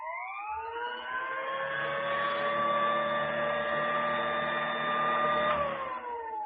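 An old-style vacuum sweeper runs in place without being pushed, giving a steady droning whine with several sustained tones. It rises at the start, holds evenly for about five seconds, then dips slightly as it winds down.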